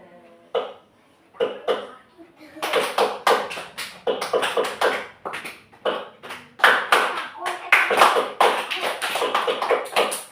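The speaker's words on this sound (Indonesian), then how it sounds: "Tepuk 1 kali, tepuk 2 kali, tepuk 3 kali, tepuk 4 kali" Sharp hand claps in a classroom lesson on patterns come in counted groups, first single, then paired, then quicker runs, close and fairly loud.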